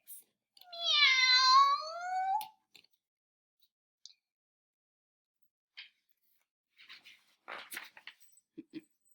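A single drawn-out cat meow, close and clear, followed by silence and a few faint scattered clicks.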